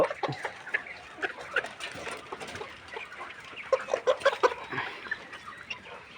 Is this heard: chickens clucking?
yes